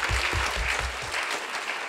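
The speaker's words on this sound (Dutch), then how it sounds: "Applaus voor Shakir." Applause from an audience for a Special Olympics athlete being called forward, several seconds of steady clapping that starts fuller and thins slightly, with faint voices underneath.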